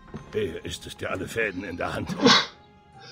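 A single sharp sneeze bursts out near the end, following steady male German speech in an Assassin's Creed III game scene.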